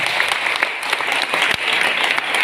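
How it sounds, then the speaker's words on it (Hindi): Loud, dense applause from a crowd honouring a company owner and CMD at a gathering, steady clapping filling the whole stretch with no speech over it. "एक बार जबरदस्त ताली बजा दो"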